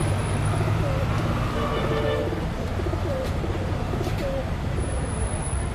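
Soft, repeated pigeon coos beneath a dense wash of outdoor noise, with distant traffic and chattering voices.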